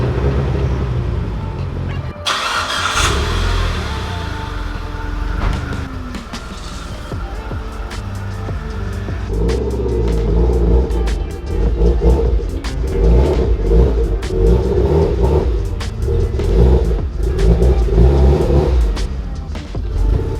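A Mitsubishi Evo IX engine starting and then revving in a shop, a sudden start followed by a rumbling idle and repeated loud revs building over about twenty seconds.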